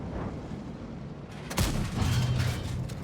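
A tank cannon fires in the Saryuda game match, one loud booming shot cutting through low engine rumble, followed by a brief mechanical tone.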